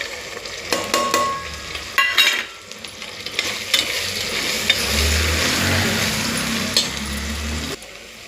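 Red chilli powder, salt, coriander powder, turmeric and homemade black masala frying in a pan for masale bhat, a steady close sizzle broken by clinks and scrapes of a stirring spoon.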